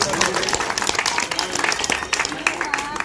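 A rally crowd breaks into dense, continuous applause and clapping, loud and close, with voices mixed into the ovation throughout.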